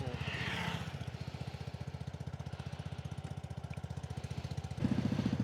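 A Vespa Sprint S150 scooter engine with a DB killer fitted to the exhaust putters in a fast, steady pulsing rhythm at close range, rising briefly louder near the end.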